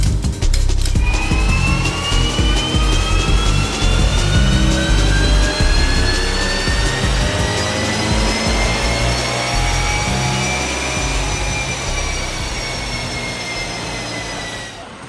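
A 2023 Subaru BRZ engine revs up on a dyno in one long, steady pull, its loud tone climbing smoothly for about fifteen seconds.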